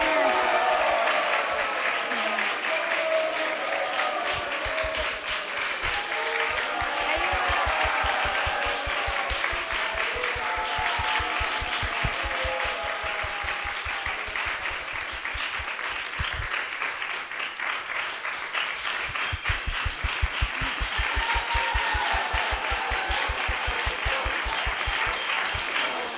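An audience at an ISKCON temple in Silicon Valley applauds in long, sustained clapping that fills the room at an even, steady level, with no voices standing out.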